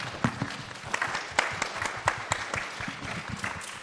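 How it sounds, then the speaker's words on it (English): An audience at a talk gives a round of applause, a crowd of hands clapping steadily at moderate distance with a few sharper individual claps standing out, with no speech over it. "Maybe we could do another round of applause on that note."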